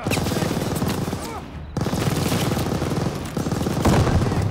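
Sustained machine gun fire in Call of Duty Vanguard on commando difficulty, a dense rapid stream of shots with rolling booms, nearly continuous apart from a short break, with faint voices under the gunfire.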